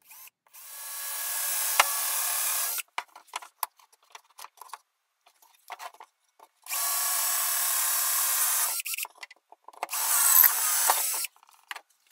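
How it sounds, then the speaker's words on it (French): A power drill bores holes through a wooden support and batten in three separate bursts: two long, steady whines and a shorter final run, with quiet handling clatter in the pauses between them. "Percez ensuite un trou sur les deux côtés du support et sur le tasseau."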